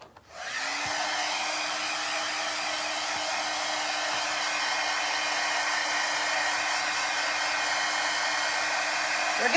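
A hair dryer blows on glue-coated patriotic decoupage lollipops, switching on and running as a loud, steady whooshing drone with a constant motor whine throughout.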